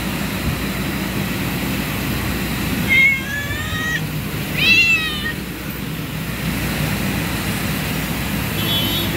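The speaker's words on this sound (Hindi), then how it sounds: "एक रोटी मैंने बिल्ली को खिला दी" A cat meows twice in the middle of a street scene, two short clear calls a couple of seconds apart, heard over steady traffic rumble.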